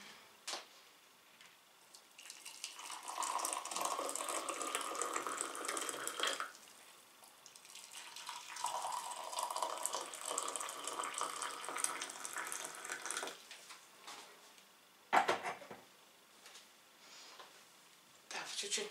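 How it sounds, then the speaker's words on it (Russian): Hot water poured into a cup for tea in a home setting, a steady splashing stream in two long pours with brief pauses, followed by a clink. "сейчас мы с вами сюда заливаем горячую воду"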